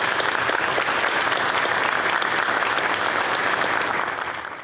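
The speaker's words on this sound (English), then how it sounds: "So let's give them a round of applause" A large audience at a police service awards ceremony bursts into sustained, loud applause, dense and even throughout before tapering off at the very end.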